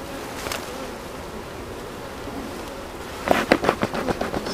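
Honeybees crowd a blocked hive entrance, a steady low buzzing hum throughout that swells into a louder, pulsing burst of close wingbeats near the end.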